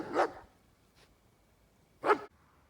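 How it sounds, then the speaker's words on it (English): A neighboring dog barks twice from a moderate distance, two sharp separated woofs with a faint yip between them, in an otherwise quiet yard. "Neighbor's dog."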